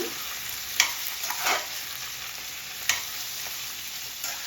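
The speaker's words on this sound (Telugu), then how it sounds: "మధ్యలో ఒకసారి ఇలా కలుపుతూ ఉండాలన్నమాట." Potatoes fry in hot oil in a pan while being stirred, giving a steady quiet sizzle broken by a few sharp scraping strokes from the spoon.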